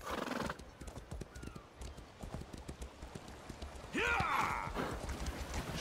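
Horse hooves clip-clopping steadily across a bridge in the video game The Elder Scrolls Online, with a neigh and whinny rising midway and faint talk briefly underneath.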